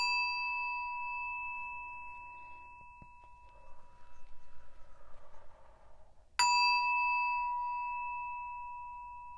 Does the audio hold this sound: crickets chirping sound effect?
no